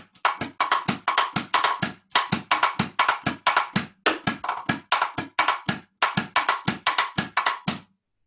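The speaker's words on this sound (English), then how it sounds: "And so the cajita came into play." An Afro-Peruvian cajita, a small wooden box struck with a stick, taps out quick dense rhythmic clusters of sharp wooden hits in phrases separated by brief pauses, close and fairly loud with no voices.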